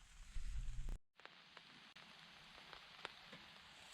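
Steady outdoor rain patters on surfaces at a camp where nuts are roasting, with a loud rustling burst, a sharp cut, then an even hiss broken by a few sharper drips.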